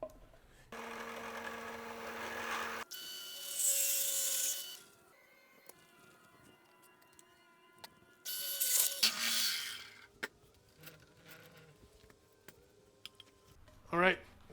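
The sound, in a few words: drilling a hole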